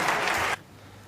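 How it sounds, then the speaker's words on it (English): Snooker crowd at the Crucible giving a standing ovation, a dense burst of clapping that cuts off abruptly after half a second into quiet room tone. "The audience stand up, a standing ovation from this crucible crowd."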